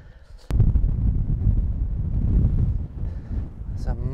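Gusting wind buffeting the microphone on Craigielaw Golf Club's course, a loud rumbling roar that starts abruptly half a second in and persists, with faint talk at the edges.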